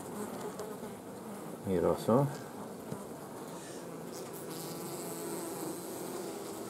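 Honey bees buzzing on hive frames, a steady close hum with a brief louder swell of buzzing partway through, while a person talks quietly over it.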